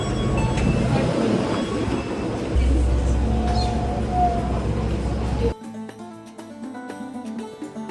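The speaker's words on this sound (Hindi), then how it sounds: "so this is the monorail" A monorail train in Dubai running, a loud steady rumble with whirring tones and some rattle up close, then cutting to a quieter interior hum with faint tonal whine near the end.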